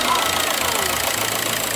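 A 1.9 car engine runs steadily with a broad, continuous idling rumble and some mechanical knock, close and fairly loud throughout the short stretch.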